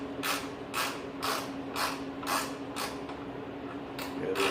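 Capri 4-in-1 ratcheting wrench turning a 10 mm fitting: rapid, even clicking bursts of the pawl repeating about every half second, close and clear over a steady background hum, no talk.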